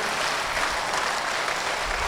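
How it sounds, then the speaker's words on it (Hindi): Dense, steady applause fills an auditorium as the audience claps for a poet's recitation, a continuous wash of many hands with no pause. "एक बार दोनों हाथ ऊपर उठाकर आशीर्वाद की तालियां दीजिए मुझे।"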